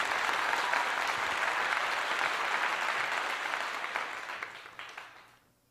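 Applause from a crowd at a public meeting, steady clapping that holds for several seconds and then fades out to quiet.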